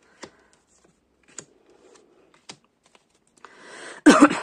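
Petit Lenormand cards handled and drawn during a reading: a few soft, sparse card clicks and slides spread over a quiet stretch, ending in a brief, louder rustling burst.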